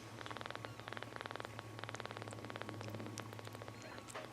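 Close, quiet purring from a tiny orphaned kitten found in a yard, a soft rhythmic buzz in short pulsing bursts over a low steady hum.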